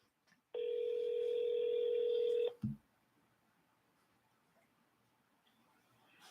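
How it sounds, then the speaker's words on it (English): An outgoing phone call rings through: a single steady ringback tone lasting about two seconds, then a click and quiet line noise. "Let's see if we can get the next person on the phone."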